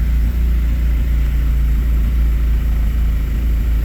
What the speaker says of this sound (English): Doesn't sound to be running very well, but there's no telling why.